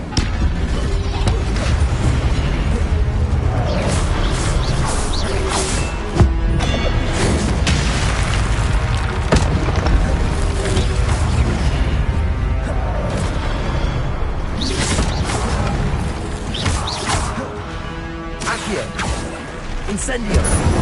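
The Incendio fire spell in Hogwarts Legacy bursts repeatedly with booming whooshes and impacts, loud and layered in a dense, continuous stretch of game combat noise.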